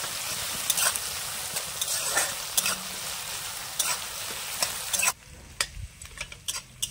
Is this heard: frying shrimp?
yes